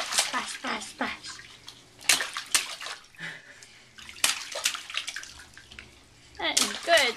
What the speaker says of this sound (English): You are really good at splashing.